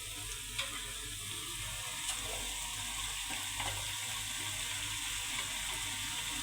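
Fish and potato curry frying in a pan, a steady close sizzle under occasional soft scrapes and knocks from stirring, with no voices.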